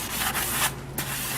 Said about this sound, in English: go with a green 3M scrubby and really start putting some elbow grease on the surfaces